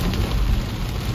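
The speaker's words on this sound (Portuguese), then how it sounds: "Não sei se vocês conseguem escutar os raios." Heavy rain hammers down in a dense, loud, continuous roar during a thunderstorm at Balneário Camboriú, heard from inside a car with no talking.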